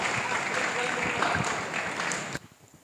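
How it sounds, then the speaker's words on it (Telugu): An audience at a youth fellowship meeting claps together in a dense burst of applause that fills the room for about two seconds, then stops abruptly, leaving quiet room sound. "ప్రతి ఒక్కరు సిస్టర్కి క్లాప్స్ కొడదాం."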